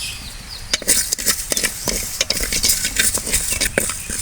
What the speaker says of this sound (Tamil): பச்சரிசி ஒரு கைப்பிடி அளவு போட்டு நம்ம வறுத்துக்குவோம் அது கூடையே வந்து ஏலக்காய் வந்து ஒரு அஞ்சு ஏலக்காய் போட்டு அப்படியே வறுத்துக்கலாம்